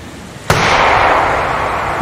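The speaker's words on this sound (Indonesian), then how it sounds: "Solomon mengikuti arah suara tembakan itu." A single sharp gunshot from an animated story set in a forest, fired by a hunter at a deer, cracks out loud and close halfway through, followed by a long ringing decay with no talking.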